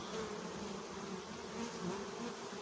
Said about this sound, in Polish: ten czteropiętrowy ul cały czas lata i pracuje